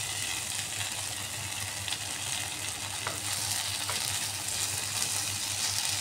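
Eggplant frying in hot oil with split green chillies and pre-fried rohu fish added, giving a steady, close sizzle with faint stirring clinks.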